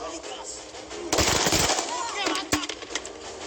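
Gunfire from a SWAT challenge sniper shooting at targets, with a sharp report near the middle and another crack later, heard over background commentary and crowd noise.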